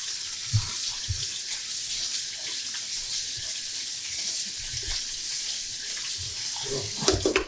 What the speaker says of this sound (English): So I'm going to rinse them in a little bit of cool water.